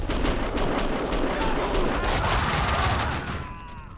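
Sustained gunfire in Max Payne, a dense, loud fusillade of rapid shots rattling continuously before tapering off near the end.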